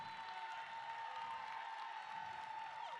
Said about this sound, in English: Give Miss Phyllis Yvonne Stickney another round of applause.